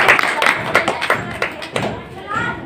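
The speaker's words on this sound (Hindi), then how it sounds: "इसका तालियों से स्वागत किया जाता है" Audience clapping welcomes a garland offering at a community gathering, a dense burst of claps that thins out over a few seconds, with voices mixed in.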